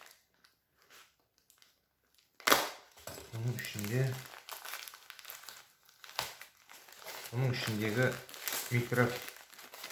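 Loud crinkling of a plastic package being torn and unwrapped in bursts, with a person talking between and over the rustling.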